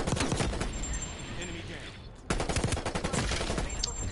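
Rapid automatic gunfire in Call of Duty Cold War crackles loud and close in steady bursts, pausing briefly before another sustained volley, with voices talking underneath.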